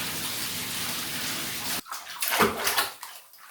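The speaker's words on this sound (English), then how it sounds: "the stream of the water in case it's too hot or too cold while I adjust it" Water runs from a tap into a baby bath as the temperature is adjusted, a steady rushing stream that breaks off, then returns as uneven splashes and sloshing.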